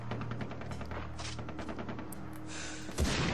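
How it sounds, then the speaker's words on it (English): Far Cry 3 gameplay gunfire: a steady stream of rapid shots and bursts runs throughout at moderate distance, with a louder blast near the end. "Some douche is shooting him and I can't see him."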